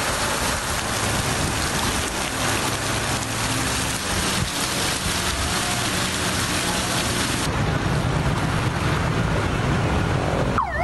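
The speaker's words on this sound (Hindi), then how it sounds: "कराची के मुख्तलिफ इलाकों में सारा दिन कहीं हल्की और कहीं तेज़ बारिश" Rain falls steadily on Karachi streets, a loud continuous hiss of drops on pavement and surfaces with a low traffic rumble mixed underneath.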